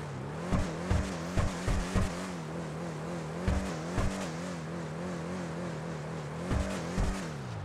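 Declasse Draugur off-road vehicle in GTA 5 idling with a deep, steady engine rumble, broken by repeated sharp revs in clusters, moderately quiet and alone.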